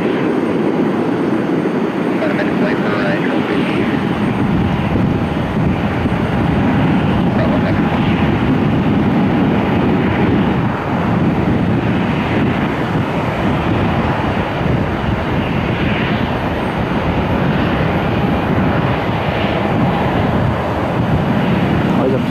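Boeing 737-900 airliner at Cleveland Hopkins Airport, its engines producing a continuous broad roar that holds at a steady loud level throughout.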